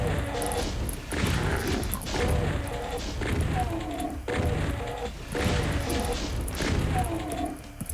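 Rockets explode one after another in the video game Into the Base, giving a continuous run of loud, heavy crashing booms with short dips between bursts.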